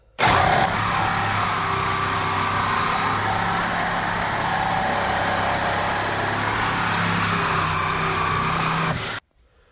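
A reciprocating saw with a Milwaukee Carbide blade cutting metal, a loud steady buzzing drone that starts abruptly, runs for about nine seconds and cuts off.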